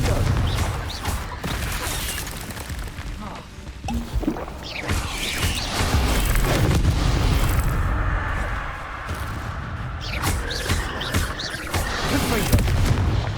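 Repeated Confringo fire spells explode during Hogwarts Legacy video game combat, a dense run of booming blasts, crackling impacts and thuds at close range, with voices occasionally heard amid the fighting.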